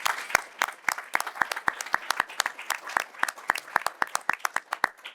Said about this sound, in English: A big round of applause for Amanda.